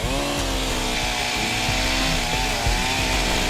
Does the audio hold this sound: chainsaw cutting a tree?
yes